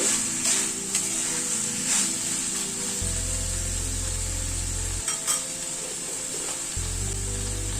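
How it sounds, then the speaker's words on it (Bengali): Spiced chicken sizzles in oil released from the masala, a steady hiss in a pan with scraping stirs and light utensil clinks throughout, close and clear with no talking. "চিকেনটা পুরো কষানো হয়ে এসছে, তেল ছাড়ছে মশলার থেকে"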